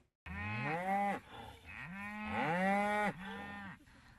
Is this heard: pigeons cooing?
no